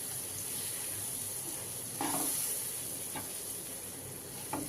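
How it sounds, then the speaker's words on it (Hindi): Chana dal roasting in a pan while being stirred, a steady soft sizzle with a few brief scraping bursts from the spoon, fairly close and alone without talk. "इसको हम चलाते हुए इस तरीके से भून लेते हैं दाल को"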